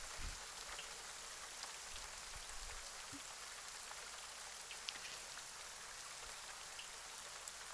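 Steady rain falls on a surface, a dense, even hiss of countless drops that holds at a constant level throughout, with a few faint low thumps early on and no voices.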